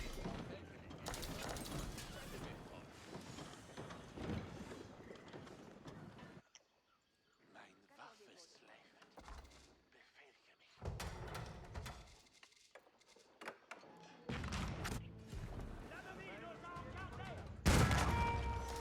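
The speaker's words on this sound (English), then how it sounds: "Come with my culverins. I want to take out some of his cannons." Culverins firing at enemy cannons in the strategy game Age of Empires IV: clusters of gunpowder shots and booming volleys come in bursts, separated by quieter gaps, with game sound effects layered throughout.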